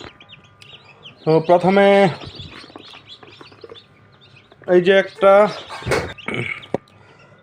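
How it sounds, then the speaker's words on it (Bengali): Young chicks, among them a silkie chick, chirp close by in thin, high peeps scattered through the clip, while a person talks over them in short bursts. "এই যে প্রথমে একটা সিল্কি মুরগির বাচ্চা"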